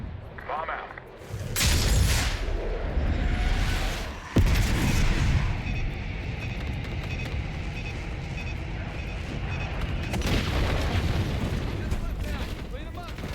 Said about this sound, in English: Bomb out.